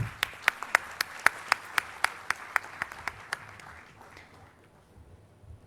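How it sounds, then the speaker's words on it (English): Sparse, distinct claps at a 2022 AIBT graduation ceremony, a steady run of sharp individual hand claps in a hall that slows and fades out after about three seconds. "Shall we have a good round of applause?"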